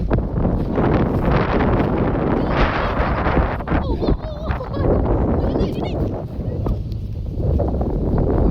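Strong wind buffets the microphone in loud, roaring gusts while a large kite is flown, with a brief dip midway before the rush picks up again.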